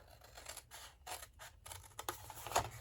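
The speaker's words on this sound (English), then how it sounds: "The first thing we're going to do is we've got to do a little trimming." Paper trimmed for a Stampin' Up! Fresh as a Daisy extra large craft bag, with a run of close, crisp scissor-like snips and rustles over about three seconds and no talk.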